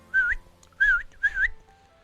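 Lodestones in the Stoneblock 3 video game give off a clear whistling, three short rising-and-falling whistles in a row, alone and fairly close.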